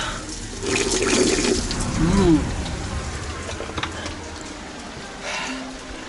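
Natural drinking water flowing outdoors on a mountain trail near Dal Lake, McLeodGanj, a steady close splashing trickle with a voice briefly under it.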